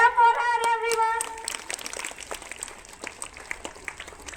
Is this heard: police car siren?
no